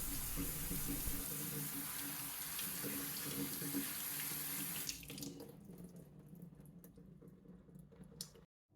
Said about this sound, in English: to just see all of that pulp rinse off of those seeds